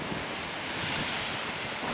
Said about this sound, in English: Those waves coming in.